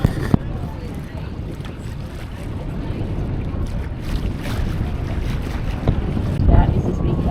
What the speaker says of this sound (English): We're on the boat now.